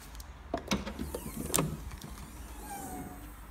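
Boot lid of a Ford Focus opening at the rear, a quiet mechanical release click and soft motor whir followed by a faint thunk, close and brief with no talk.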